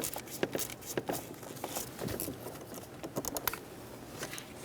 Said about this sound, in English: For this, it's easiest if you use a ratcheting 10mm wrench.